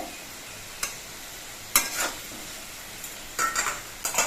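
Potatoes frying in a pan over a medium gas flame, a soft steady sizzle broken by a handful of scattered stirring scrapes, close and alone.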